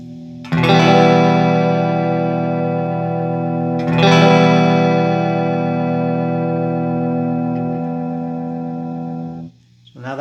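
Electric guitar through a TC Electronic Flashback delay pedal with a warbling modulated TonePrint, two strummed chords ringing out long and loud with wavering pitch and trailing echoes.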